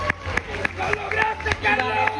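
Scattered clapping from a crowd at a sixth-grade graduation, irregular and moderately loud, mixed with background chatter and murmuring voices.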